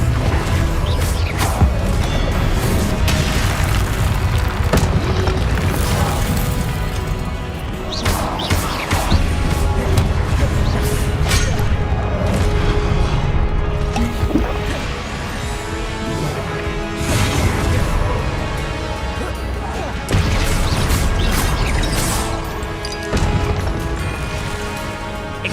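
Spell impacts in Hogwarts Legacy crash and thud in quick succession over a constant loud bed of game music and effects, with dense bursts of smashing hits throughout.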